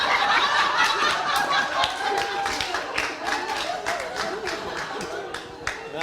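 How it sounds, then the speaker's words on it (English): Audience applause at a FuckUp Nights Gold Coast business talk: dense, steady clapping that gradually thins and fades, with scattered chuckles and voices mixed in. "Round of applause, one more for Marko as well"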